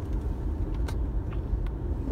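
Steady low road rumble fills a car cabin during a long highway drive, with a few faint clicks and rattles over the constant engine and tire noise, no talking.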